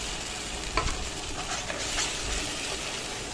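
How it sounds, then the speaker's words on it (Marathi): Tomato, chilli and coriander chutney sautéed in a pan, giving a steady low sizzle with a few soft stirring scrapes, fairly quiet and close. "आता आपण पूर्ण टाकूया। छान परतून घ्यायचं आहे"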